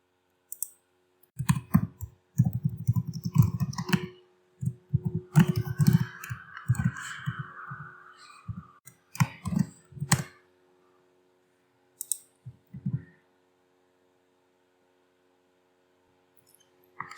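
Typing code on a computer keyboard: clusters of quick soft key clicks with pauses between bursts, close and fairly quiet, with a faint hum beneath.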